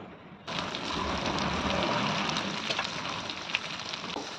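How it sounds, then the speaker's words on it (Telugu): Onions dropped into hot oil with tempering spices such as chana dal, urad dal, mustard seeds, cumin and dried red chillies, starting with an abrupt loud steady sizzle that continues close up, with no talking. "చూడండి పోపు దినుసులు వేగినాయి కదా. ఇప్పుడు ఉల్లిపాయలు వేసుకుందాం."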